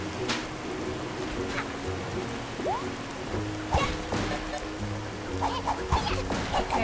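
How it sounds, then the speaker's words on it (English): Steady rain hisses through the video game A Hat in Time, a continuous wash of rainfall with scattered small thuds and effects layered on top, moderately loud throughout. "the rain effect is a bit too much for the computer to handle"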